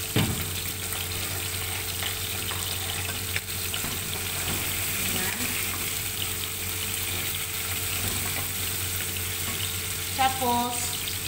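Fish topping for machboos frying in a pan, a steady broadband sizzle running throughout at moderate level, with faint clinks of a utensil and a brief tonal squeak near the end.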